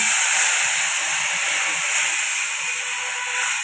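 Water hits a hot pan holding black cumin and green chillies, producing a loud, steady, close hiss of steam and sizzle that barely fades over a few seconds.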